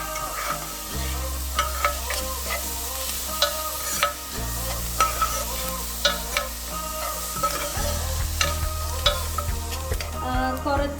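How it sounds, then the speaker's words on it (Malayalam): Chopped onion sautéing in a pan for a home-cooked rajma meal, with steady sizzling broken by repeated scraping and clinking strokes of a spoon against the pan and a low hum underneath. "ഇതൊന്ന് ബ്രൗൺ കളർ ആവണത് വരെ നന്നായിട്ടൊന്ന് നമുക്കിത് സോട്ട് ചെയ്തെടുക്കാം."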